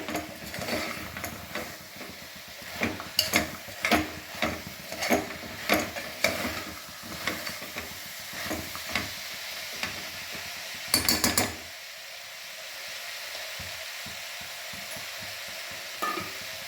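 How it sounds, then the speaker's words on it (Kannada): Ground masala and chilli powder frying in oil for chana masala, with a spoon stirring through it: repeated close scraping strokes over a steady sizzle, then a quieter sizzle alone with only a few scrapes. "ಒಂದ್ಸಲ ಇದನ್ನೆಲ್ಲ ಹಸಿ ವಾಸನೆ ಹೋಗೋವರೆಗೂ ಸರಿಯಾಗಿ ಎಣ್ಣೆಯಲ್ಲಿ ಫ್ರೈ ಮಾಡ್ಕೊಳ್ಬೇಕು."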